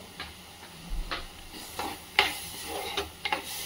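Onion sizzling and frying in a pan for Goan dry prawn curry, a soft steady crackle with scattered clicks and taps of a spoon stirring against the pan.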